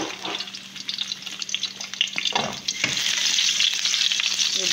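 Garlic sautéing in a hot pan, a dense continuous sizzle with a few scraping stirs, close and fairly loud, with no talking.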